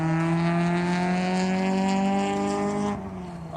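Whiny engine of an aftermarket-tuned tuner car revving hard outside, a loud sustained high-pitched drone with rising harmonics that drops off near the end, no talking.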